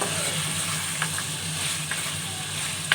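Mutton with spices for white karahi fries in a pan with a steady, close sizzle and a few faint stirring taps.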